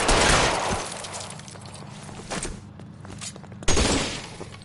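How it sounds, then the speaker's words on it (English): Machine gun fire from L.A. Noire: a loud burst of rapid shots opens, followed by scattered impacts and debris, then another sharp burst near the end. "Real cool machine gun."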